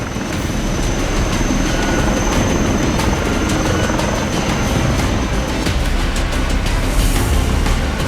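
A helicopter rescuing flood-stranded soldiers thunders close and loud, a continuous rotor beat and engine roar filling the whole stretch without pause.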